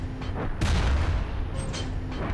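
Turrets fire in the video game Carrier Command: Gaea Mission, with several loud, booming shots in quick succession over a dense, continuous roar of battle.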